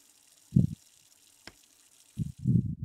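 Water pump being worked in the video game Havendock: two short watery gushes, separated by a faint tick, stand out against a quiet background.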